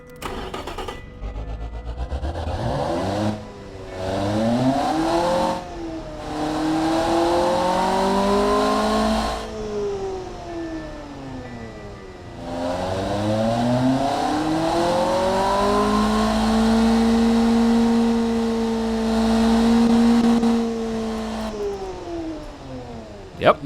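A sports car engine in the video game Automation revs up and down in long sweeping pulls, with a brief idle dip between two main rev climbs and the note holding high near the end, with no one speaking.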